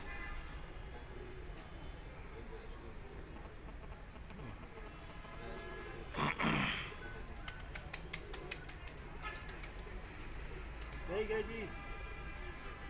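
Soft pigeon coos sound now and then in the distance from a rooftop during a pigeon flying competition, beneath a steady background hum, with a few louder bursts of noise.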